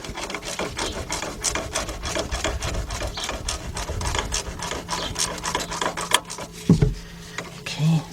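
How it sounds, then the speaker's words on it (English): A 1/4-inch drive ratchet with an 8mm socket tightens bolts on the right rear brake wheel cylinder of a 2002 Mercury Sable LS, giving a steady, close, rapid rasping click that runs almost without a break and ends in a few louder knocks. "Now let's get our 1/4" drive ratchet with our 5/16 or 8mm socket on it."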